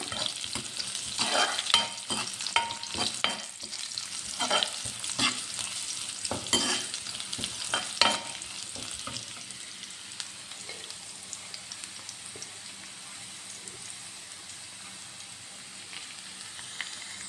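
Ingredients for beef fry are sautéed in a pan: repeated scraping stirs and crackling sizzle for the first several seconds, settling into a softer, continuous frying hiss.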